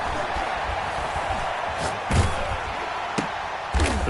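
Football stadium crowd at a Packers versus Texans game, a dense, loud roar sustained throughout with a few sharp thumps, as a commentator's voice runs faintly beneath.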